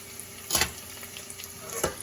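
Cherry tomatoes and shishito peppers cook in a pan for spaghetti, a soft steady sizzle with two brief louder stirring scrapes, quiet and close, with no speech.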